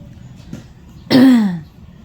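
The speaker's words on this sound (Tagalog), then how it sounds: "Parang ang sipon ko ay puntang ubo." One close, loud throat-clearing cough rings out from a person with a cold, preceded by a faint small sound and followed by quiet.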